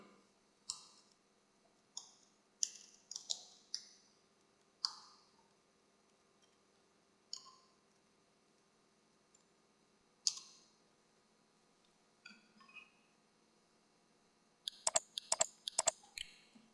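Typing on a computer keyboard comes as scattered bursts of crisp key clicks with long quiet gaps, ending in a quick cluster of sharper taps, close and fairly faint, with no talking.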